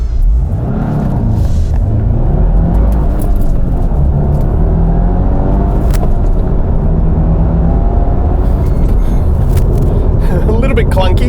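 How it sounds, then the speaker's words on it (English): A 2022 Subaru WRX RS with a manual gearbox accelerating hard toward 100 km/h, its engine a deep, steady rumble that rises and falls through gear changes, heard from inside the cabin. "apparently you can get this car to 100 k's per hour in 6 seconds"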